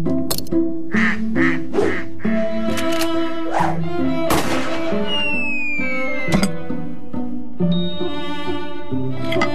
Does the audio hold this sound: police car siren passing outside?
no